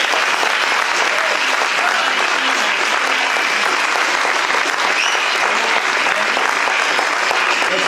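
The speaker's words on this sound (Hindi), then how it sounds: "दोनों के लिए तालियां बजाएं।" Loud, dense applause from a theatre audience after two child actors perform in a Hindi children's play. The clapping runs close and steady for the whole eight seconds with no pauses.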